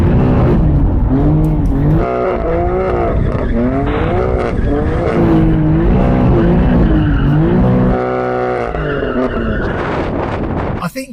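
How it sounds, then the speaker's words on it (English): A BMW M4 CS and a Shelby Mustang GT350, both powerful rear-wheel-drive cars, warm their tyres with loud sustained engine revving and screeching tyre squeal, engines rising and falling in pitch, close and continuous. "these are two very powerful rear-wheel drive cars, so obviously we need to warm up their tyres"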